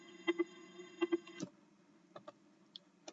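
Computer mouse clicks come in quick close pairs, sharp and light, followed by a few fainter scattered clicks in a quiet room.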